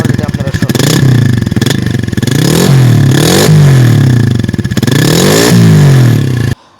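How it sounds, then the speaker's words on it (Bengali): A Runner Cheetah motorcycle engine runs close by and is revved repeatedly, its pitch rising and falling in several loud throttle sweeps before cutting off abruptly at the end. "এবার যে বাইকটির সাউন্ড কোয়ালিটি আপনাদেরকে দেখানো হয়"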